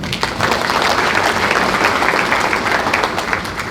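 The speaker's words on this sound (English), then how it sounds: "Give him a round of applause." Loud, dense audience applause at an overdose awareness summit, a continuous wash of many hands clapping at once, held steady throughout.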